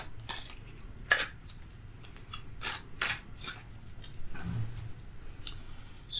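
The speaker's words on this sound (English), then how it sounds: "This is how I keep my cards straight and from warping out of shape by shuffling them upside down too" Crisp intermittent clicks and riffles of tarot cards being shuffled, scattered bursts with quiet gaps between them, close up.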